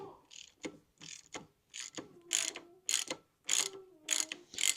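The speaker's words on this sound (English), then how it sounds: "ratchet back and forth" A hand ratchet is worked back and forth on bolts while a Farmall Super C tractor is being repaired, giving a run of sharp, close clicking bursts in an uneven rhythm with short pauses between strokes.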